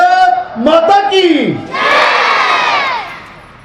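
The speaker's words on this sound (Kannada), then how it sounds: "ಭಾರತ ಮಾತೆಗೆ ಒಂದು ಬಾರಿ ಜೈಕಾರ ಹಾಕುದಾ?" A crowd at a Vivekananda Jayanti gathering roars the Bharat Mata ki Jai slogan in response to a leader's call, loud, close and sustained, the massed voices rising together and trailing off.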